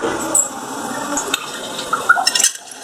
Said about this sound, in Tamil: துவரம் பருப்பு ஐம்பது கிராம் ஒரு இருபத்தஞ்சு கிராம் கடலைப்பருப்பு ரெண்டையும் நல்லா வாஷ் பண்ணிடலாம்